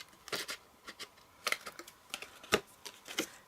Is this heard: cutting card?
yes